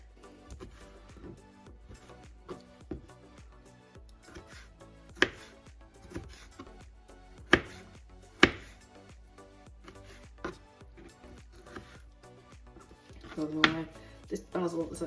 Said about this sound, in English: So just slicing that out.